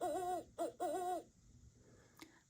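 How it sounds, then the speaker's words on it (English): An owl hoots in a short run of three quavering, pitch-bending calls, two long ones around a brief middle note, clear and fairly close, followed by near silence and a faint click. "Owl."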